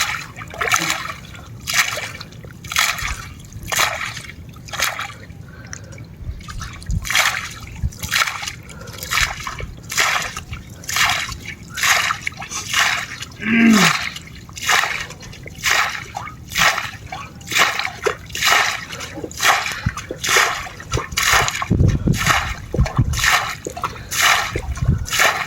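Water leaking and splashing out in regular repeated bursts, a rhythmic slosh and spatter that goes on for about twenty-five seconds, fairly loud and close, with no talk.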